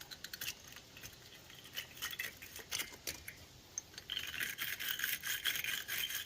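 Small terminal cleaner brush scrubbing metal terminals inside a Nissan Frontier headlight connector, a faint, rapid scratchy bristle sound in irregular strokes, growing denser and louder toward the end.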